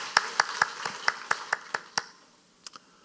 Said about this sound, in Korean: 이 귀한 어머니들 위해서 우리 한번 크게 박수하겠습니다